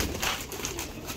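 Pigeons coo softly in a brief, faint burst of low, rolling calls, with no voices over them.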